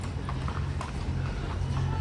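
A horse carrying a rider walks along a town street in Ajijic, its hooves clip-clopping in a steady, moderately close rhythm over a constant low background hum, with no voices.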